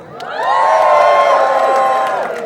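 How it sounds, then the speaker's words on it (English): A crowd at a volleyball tournament cheers loudly together, a swelling sustained roar of shouts and whoops that rises, holds for about two seconds, then fades. "let's hear a cheer"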